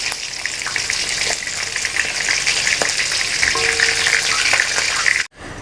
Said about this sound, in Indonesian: Saya akan angkat dulu bebek gorengnya ini.